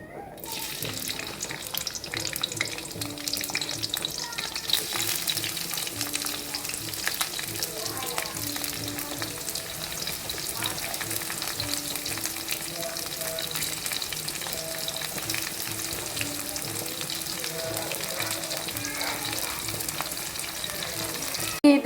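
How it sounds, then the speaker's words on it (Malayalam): Sliced onion and green chilli frying in hot coconut oil for a cauliflower and potato stir-fry: a steady, close sizzle lasting over twenty seconds, with occasional stirring and scraping in the pan. "എണ്ണ ഒന്ന് ചൂടായ സമയത്ത് നമ്മൾ എടുത്തു വെച്ചേക്കുന്ന സവാള പച്ചമുളക് ഇട്ട് കൊടുക്കാം"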